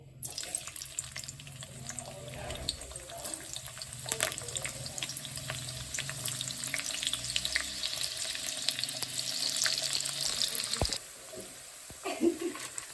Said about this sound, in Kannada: ಎಣ್ಣೆ ಕಾಯ್ದ್ಮೇಲೆ ಈರುಳ್ಳಿನ ಒಗ್ಗರಣೆ ಹಾಕೋತಾ ಇದ್ದೀನಿ.